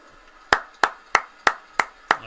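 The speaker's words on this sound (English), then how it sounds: "Okay, it's a moment's applause." A stadium crowd before a Werder Bremen versus Bayern Munich Bundesliga match applauds in memory of a club figure, heard as six sharp, evenly spaced claps in a slow, regular rhythm.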